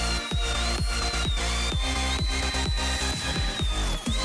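A high-pitched Dremel rotary tool whines continuously while cutting, with repeated grinding bursts in a steady rhythm, loud and close.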